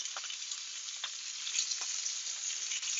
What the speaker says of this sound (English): I'm going to put the broccolini in there for the main course. And our fennel. You want to sear this almost like a steak.